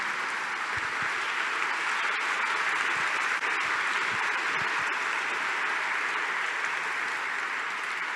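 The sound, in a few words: audience clapping at a conference talk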